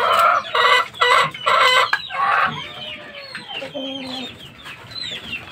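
A chicken clucks loudly and close in a run of rhythmic bursts, then tapers into softer, scattered calls and chirps.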